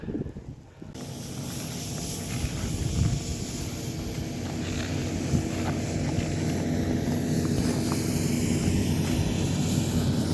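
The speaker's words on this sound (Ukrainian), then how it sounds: "Трактор їде, розчищає сніг, щоб можна було добре кататися." A tractor clears snow in a winter park in Calgary, its engine giving a steady, fairly loud drone with a hissing rush that runs unbroken for the whole stretch, with no talking.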